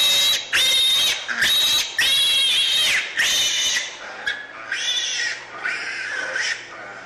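Confined pigs, including sows held in tiny gestation stalls, squeal and grunt loudly in a rapid series of shrill, overlapping cries with brief pauses between them, close and harsh throughout.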